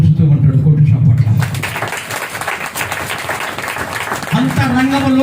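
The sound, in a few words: congregation applause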